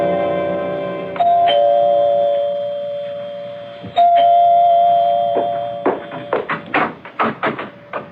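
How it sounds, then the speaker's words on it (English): A two-tone doorbell chime rings twice, clear and close with ringing tails, in a 1970s radio mystery drama, followed by a run of sharp knocks or taps on a door. "You can ring the doorbell."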